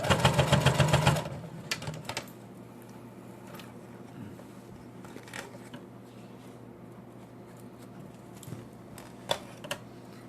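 A sewing machine runs a fast rhythmic stitching burst for about a second while making a multipurpose sewing organizer, then gives way to quiet handling clicks and rustles, no voice.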